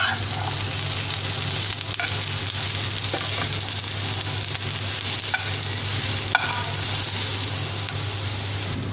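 Shredded cabbage and capsicum stir-fry with a continuous dense sizzle, joined by a low steady hum and a few sharp clicks of a spatula on the pan, close and with no voices.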